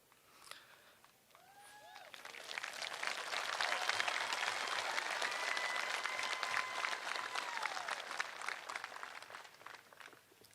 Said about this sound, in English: I'm glad that got a big cheer.